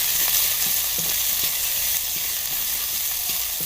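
A spoonful of garlic ginger paste fries in melted ghee, giving a loud continuous hissing sizzle close up, punctuated by light scraping taps of a stirring spoon.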